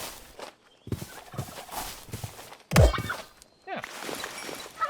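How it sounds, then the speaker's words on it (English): Turkeys gobbling in the video game RLCraft, a few short loud warbling gobbles among thumps and footsteps, with a brief burst of speech alongside. "Some turkeys!"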